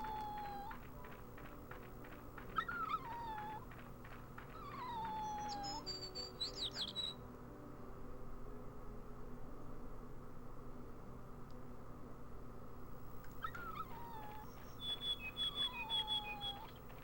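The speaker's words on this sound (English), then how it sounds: "And we can kind of hear a dog whimpering" A dog whimpers far off in the Rule of Rose video game, sounding as faint, high, sliding whines in short bursts at the start and again near the end, over a low, hushed ambient background.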